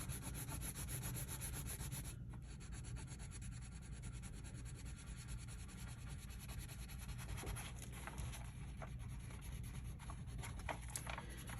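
A crayon rubs back and forth on a colouring book page, a continuous dry scratchy scraping that runs steadily at close range, with small shifts in stroke texture but no pauses.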